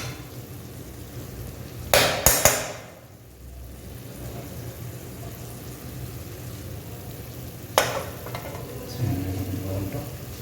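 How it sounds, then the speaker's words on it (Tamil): Masala sautéing in oil in a pan of broad beans (avarakkai poriyal), a soft continuous sizzle with a few sharp metallic clanks of stirring near the start and later, no voices. "மசாலா கொஞ்சம் எண்ணெயில் நல்லா கொஞ்சம் வதங்கட்டும்"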